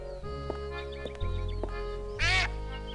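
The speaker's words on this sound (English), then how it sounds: "It's a rather unspectacular duck." A duck quacks in the video game Escape From Monkey Island: a few short honking quacks spaced apart, then a louder, longer burst of quacking over steady game music and ambience.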